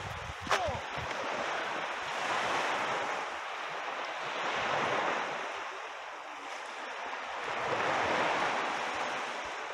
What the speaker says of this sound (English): I like the waves.